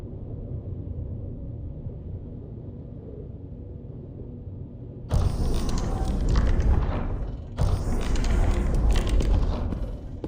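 A heavy door mechanism in the VR game Genotype starts up after a quiet low hum, with two loud grinding, rumbling bursts and a brief gap between them.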